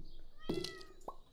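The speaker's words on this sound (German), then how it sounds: "Ja, meine kleine Katze, was ist denn los?" A cat in the farming game Stardew Valley gives a short meow, followed a moment later by a second, briefer chirp, both clear against quiet background ambience.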